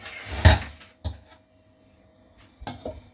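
A couple of clattering kitchen clunks as a lid is set onto a pot, followed by a quiet pause and a few softer knocks.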